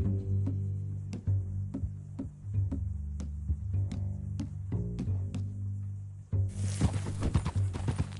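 A mean-looking new horse in Red Dead Redemption 2 clip-clops at an even walking pace with clear, regular hoof strikes, then gives a loud, close neigh near the end.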